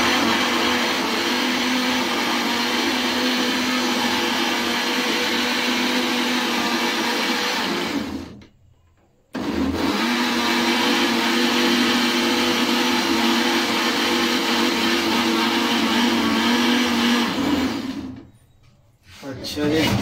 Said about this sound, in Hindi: ये हम हल्का सा इसको ग्राइंड कर लें पहले।